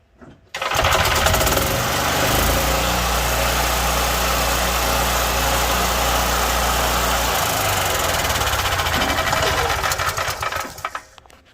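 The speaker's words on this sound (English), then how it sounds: "can you turn one of these Northern Tool Ironton engines into a golf cart engine?" A cheap Northern Tool Ironton small engine converted to power a golf cart idles loudly and close, a steady buzzing rumble that holds for about ten seconds before cutting off.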